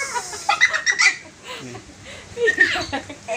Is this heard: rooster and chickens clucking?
yes